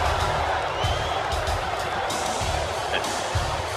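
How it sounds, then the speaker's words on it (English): A wrestling arena crowd at a hardcore wrestling show fills the space with a steady, dense roar of boos and jeers, continuous and loud throughout with no single voice standing out. "Oh, listen to the boos."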